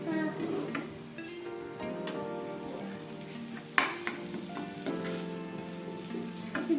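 Rice for fish fried rice sizzles and fries in a pan as it is stirred, a steady hiss broken by a few sharp clinks of the utensil against the pan, with a tonal hum in the background.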